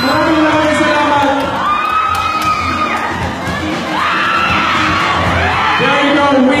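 A pageant crowd roars for the Mr. and Mrs. Malabañas 2016 finalists, loud sustained cheering, whoops and shouts from many voices with clapping mixed in, holding steady across the whole stretch.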